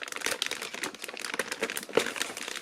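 A taped plastic parts bag from a Zoids Liger Murasume model kit is pulled open, making dense, close crinkling and rustling that carries on for a couple of seconds.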